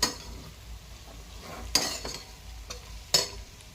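Shallow-fried paneer is stirred into masala in a pan, with a faint, soft sizzle. A few sharp clinks and scrapes of a spoon against the pan sound up close and quiet.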